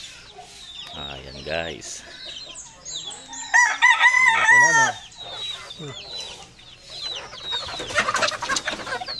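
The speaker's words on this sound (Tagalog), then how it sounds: "meron ako guys dito ang dalawang bulik na tandang" Two speckled roosters cluck and call in a lively backyard flock. Loud, close bursts of clucking and crowing come and go, and someone talks briefly between them.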